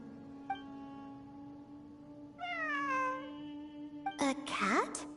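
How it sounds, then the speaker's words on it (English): A cat meows in the video game Genshin Impact, a clear drawn-out meow followed by a louder, sharper one, set against a steady electronic hum. "It really is a cat."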